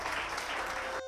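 Loud, dense audience applause at a Women's Day award ceremony, continuous clapping that stops abruptly at the end.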